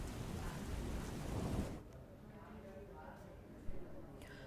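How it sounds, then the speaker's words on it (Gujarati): Heavy rain falls in Valsad as a dense, steady roar that drops off partway through to a softer patter, with a voice talking over it. "વલસાડમાં ભારે વરસાદ ખાબક્યો છે"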